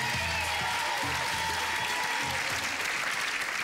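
Studio audience applause on a French television game show, a dense, loud wall of clapping that holds steady from start to finish.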